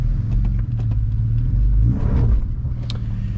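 A car in drive rolling forward on its own without the gas, heard as a steady, close, low engine-and-road rumble throughout, with no talking.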